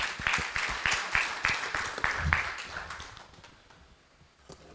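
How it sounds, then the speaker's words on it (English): An audience at an agricultural symposium in Uganda gives a round of applause, a moderate burst of scattered clapping that tapers off into near silence after a few seconds. "Let's give Fred a round of applause."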